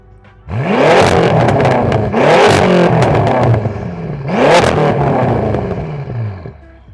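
A BMW F10 M5 in Sport Plus mode revs hard three times in succession, each loud engine roar climbing in pitch and then falling away, heard up close with no talking.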